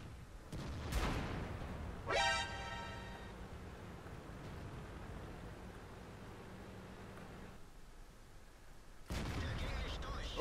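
Tank cannon fire in World of Tanks, a few sharp booming blasts with a ringing metallic echo, separated by quiet stretches of low rumble.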